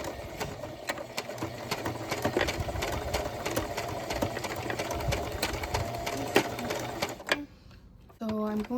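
A sewing machine stitches through rope in a steady rapid clatter, running forward and then in reverse, close and fairly loud, stopping near the end with a brief pause before a few more short stitches.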